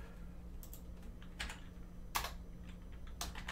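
Quiet, irregular bursts of computer keyboard typing, a few clustered keystroke clicks separated by pauses, close and faint with no talking.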